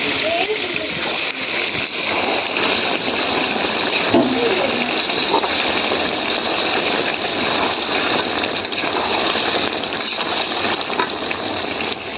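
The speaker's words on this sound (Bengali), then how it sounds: "এখন ঝোলের পানি দিয়ে দিচ্ছি" Water is poured into a hot, bubbling pot of meat curry, with continuous splashing and hissing up close.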